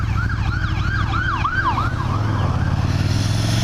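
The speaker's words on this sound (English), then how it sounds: "there's an ambulance behind me" An ambulance siren wails in rising and falling sweeps, fading as it passes, over the steady rumble of a nearby motorcycle engine.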